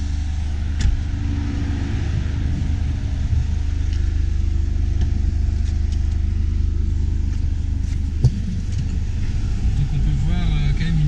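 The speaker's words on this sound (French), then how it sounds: "on peut voir quand même une différence de bruit sans l'échappement performance" A Mercedes CLA45 AMG without its performance exhaust, a steady low engine rumble heard from inside the car at a moderate level, with people talking over it.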